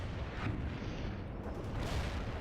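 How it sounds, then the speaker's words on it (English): Mortar fire in the World in Conflict: Soviet Assault battlefield, dull booming impacts and rumbling blasts in quick succession, heavy and continuous without speech. "Zulu 9 are firing mortars at the target coordinates"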